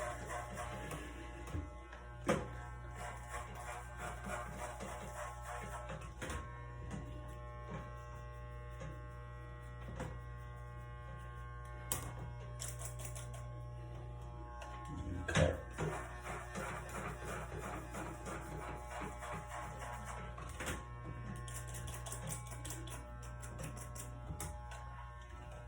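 Cheap electric hair clippers hum steadily during a home haircut, a low constant buzz with occasional brief clicks and scrapes as they move through hair, close and fairly quiet.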